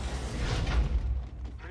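A weapon reload in Apex Legends, a short mechanical rattle and click of parts locking into place, close and moderately loud, with no talk over it.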